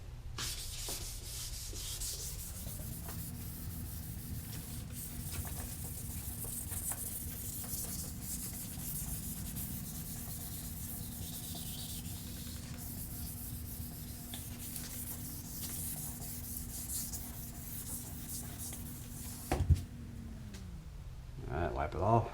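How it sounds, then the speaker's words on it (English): Steady rubbing scrub of 800-grit sandpaper wet sanding a boat hull, a continuous rasping texture lasting about twenty seconds, close by, ending with a couple of brief knocks. "Wet it down. And squirt the sandpaper too."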